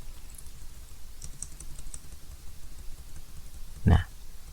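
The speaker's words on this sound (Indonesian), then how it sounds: "Sebagian orang menggunakan tombol spasi untuk mensejajarkan titik duanya." Fingers type lightly on a computer keyboard in soft, quick clicks, then one louder thump as the space bar is pressed near the end. There is no talking.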